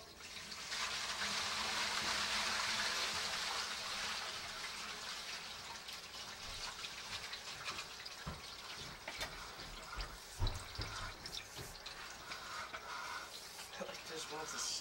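Water rushing and gurgling through a sewer line, a steady broadband wash that swells early and then continues with irregular splashes and knocks, heard fairly close with no talk over it.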